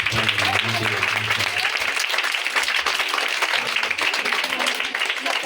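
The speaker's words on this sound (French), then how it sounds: "Je vous demande d'applaudir aussi pour les papas." A crowd at a school-kit handover ceremony applauds steadily, dense clapping filling the air at an even level throughout, with faint voices mixed underneath.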